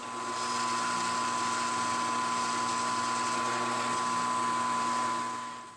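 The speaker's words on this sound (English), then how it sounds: "So I'm just going to do it with a quarter inch drill bit." A drill with a quarter-inch bit runs steadily through the work at a constant high whine, spinning up quickly and holding an even, loud tone for several seconds before easing off.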